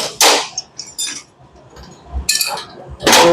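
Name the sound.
hammer tapping to knock out a magnet during repair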